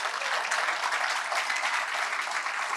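A church congregation applauds the Lord in steady, dense clapping, a continuous moderate patter of many hands.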